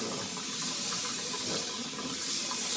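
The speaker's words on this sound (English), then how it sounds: "I'm going to be washing my hair in my sink." Water streams from a tap into a bathroom sink in a steady, even hiss that stays constant and fairly soft throughout, with no talking.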